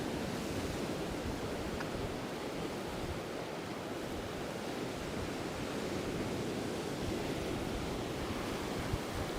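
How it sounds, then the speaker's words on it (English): Ocean waves wash steadily along the shore at the Old Town of Chania, Crete, a continuous broad roar of surf with a little wind, with no talking. "The sound of the ocean, says Keenan."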